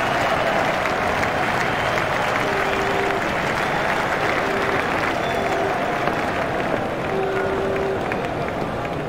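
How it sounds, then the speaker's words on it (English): Loud, sustained applause from a big stadium crowd in the EA Cricket 2007 video game during a World Cup 2003 Zimbabwe versus Holland match, a dense, continuous clapping roar with no letup. "how he deserves the applause of this tremendous crowd"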